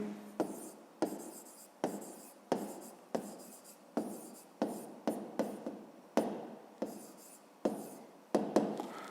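A hand writes out a fifth-grade math solution, with pen or pencil strokes scratching in short repeated bursts, about a dozen distinct strokes at a steady pace, close and fairly quiet.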